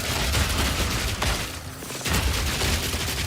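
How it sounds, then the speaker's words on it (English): Corpse explosions and spell effects in the action RPG Path of Exile 2, a dense, loud barrage of booming blasts with crackling gunfire-like bursts, briefly dipping midway before the rapid explosions resume. "Oh, good, a corpse explosion."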